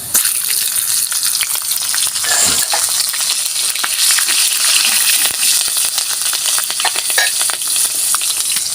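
Continuous loud sizzle and spatter of panch phoron and slit green chillies frying in hot oil, with crackles and stirring sounds and no talk.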